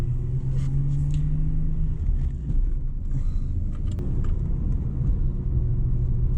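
Steady engine drone and road rumble from inside a BMW E36 320i on a Sunday drive, with a low humming tone that eases and shifts as the car cruises along, near and constant with no talking.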